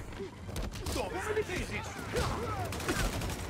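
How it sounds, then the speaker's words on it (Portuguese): Rapid bursts of gunfire in Marvel's Spider-Man Remastered on PS5 crackle in a dense, busy mix, with a voice talking over the shooting throughout. "Os tiros ainda pegam em mim"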